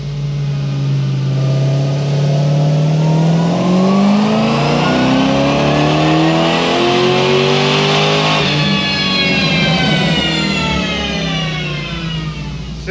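A supercharged car engine on a full-throttle pull, loud and close, climbing steadily in pitch with a rising supercharger whine, then a shift and a second climb.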